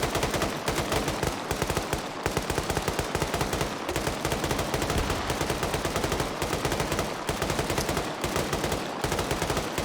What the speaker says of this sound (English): Infidel really laying down the heat to keep these three Op4 guys suppressed.